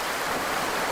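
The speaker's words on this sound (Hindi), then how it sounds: "बहता हुआ पानी" Steady broadband rush of flowing water, like a stream running over rocks, continuous and even with no voices.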